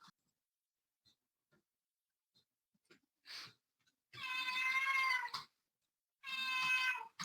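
A cat meows twice, long drawn-out wailing cries near the microphone, separated by a pause, after a few faint soft knocks and a short breathy sound in an otherwise quiet room.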